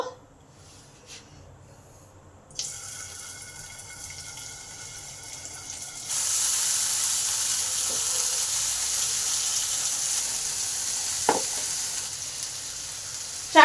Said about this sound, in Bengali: কেন আলুগুলোকে ভেজে নেব